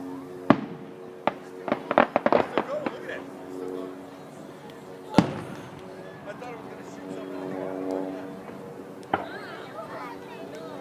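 Fireworks at the 2014 Mentor, Ohio show burst in sharp, booming cracks, a quick cluster of several bangs followed by single louder blasts, while people chat nearby between explosions.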